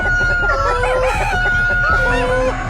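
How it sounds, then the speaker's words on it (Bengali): Cartoon chickens on a farm waking and calling out, a loud flurry of overlapping clucks and squawks with a crowing rooster, steady and close throughout. "কিন্তু হঠাৎ মুরগিরা জেগে ওঠে। ডাইনিকে দেখে তারা ডাকতে শুরু করে।"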